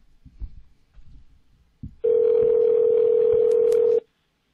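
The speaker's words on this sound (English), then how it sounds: "We about are to get Dorien Wilson of the Parkers on the phone right now" Steady telephone dial tone on a radio show call, starting abruptly after faint background murmur and holding loud and unbroken for about two seconds before cutting off.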